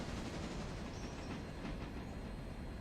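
A freight train rolls along the rails in the Railroader simulator game, giving a continuous, even rumble with a faint rhythmic clatter of wheels. It sounds close and steady throughout, with no voices.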